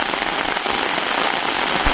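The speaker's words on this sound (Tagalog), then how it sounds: "Kaninang umaga hanggang ngayon umuulan pa rin." Heavy rain falling during a daytime outing, a dense loud hiss of drops with crackling patter on surfaces, continuous and close with no talk.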